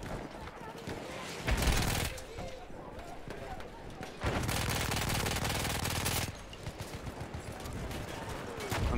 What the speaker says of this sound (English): Там у них пулемёт.